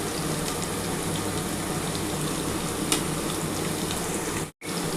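Potato pieces fry in a pan with salt and turmeric, giving a steady close sizzle and hiss throughout that briefly cuts out near the end.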